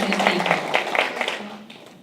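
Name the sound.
audience applause at school board meeting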